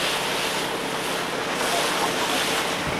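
Strong wind at sea buffets the microphone on a diving boat over the North Sea, a continuous broad roar with waves and water noise mixed in, loud and unbroken throughout.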